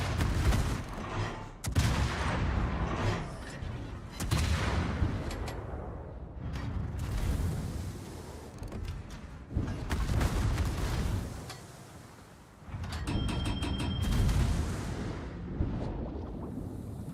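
Naval guns boom in repeated heavy salvos in World of Warships, deep rumbling blasts that roll into one another with little quiet between them.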